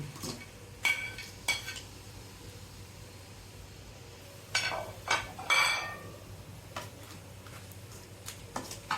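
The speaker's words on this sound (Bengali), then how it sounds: "এখন আমি কাঁকড়া আলুগুলো দিয়ে দিচ্ছি" Crab pieces and potatoes tossed into a pan for a crab and cabbage curry, giving a few sharp clatters and bursts of sizzle over a low background hiss, with quieter stirring clinks between.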